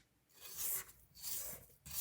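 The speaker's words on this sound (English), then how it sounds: "we're now ready to scrape down the sides of our bowl again" A spatula scrapes down the sides of a mixing bowl of cookie dough, in three rasping strokes heard up close with no talking.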